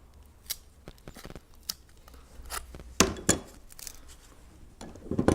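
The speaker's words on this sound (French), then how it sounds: "soit je coupe au coupe-tout, ou à la pince" Thin wooden crate slats are cut with a utility cutter or pliers to make a plant label. Close, quiet, sharp snaps and crunches come at an irregular pace, with a denser cluster of cuts near the end.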